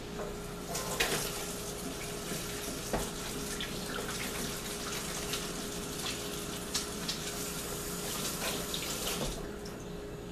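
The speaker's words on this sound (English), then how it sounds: "I'm going to wash my hands again" Tap water runs steadily into a kitchen sink as hands are washed under it, a continuous soft splashing stream with small shifts in the flow, fairly quiet and with no talk.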